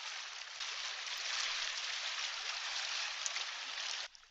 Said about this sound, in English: I actually recorded this in Michigan. Just this is from like a waterfall or something,